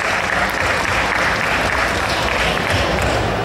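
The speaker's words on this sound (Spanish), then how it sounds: "aplauso para Pablo." Dense, loud applause from a crowd at a food festival, continuous clapping and crowd noise filling the space evenly with no break.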